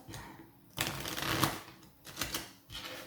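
Tarot cards shuffled by hand in two or three brisk riffling bursts with short pauses between, close and fairly quiet, no talking.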